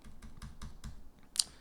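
Single key presses on a computer keyboard while nudging audio in Pro Tools, five or six evenly spaced taps followed by a sharper click, close and fairly quiet.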